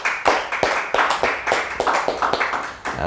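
Audience clapping at a public event, a close, rapid run of loud, sharp individual hand claps in an irregular rhythm that continues throughout.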